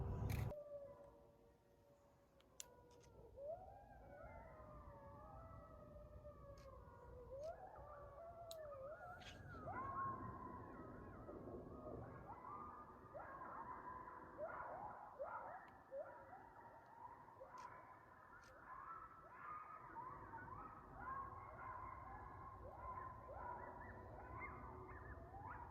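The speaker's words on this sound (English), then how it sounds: "Nothing like the blood-curdling sound of howling coyotes as you're watching an eclipse." Coyotes howl and yip at night during a lunar eclipse, a chorus of wavering, rising and falling cries that carries on steadily from a distance, fairly faint and with no talking.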